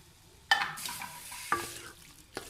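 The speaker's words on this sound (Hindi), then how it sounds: "ये घी समेत ऐसे इसमें डाल देना है और इसको करेंगे अच्छे से मिक्स" Minced meat and aloe vera are stirred in hot ghee in a pan, sizzling steadily with a few sharp scrapes of the spoon against the pan at irregular moments.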